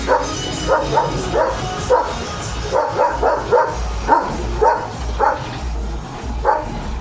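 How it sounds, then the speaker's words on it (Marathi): A pet dog barks at a truck, sharp repeated barks in uneven bursts with brief yips, fairly close over a low rumbling background. "आमचं तर ट्रकला पण भुंकत आहे"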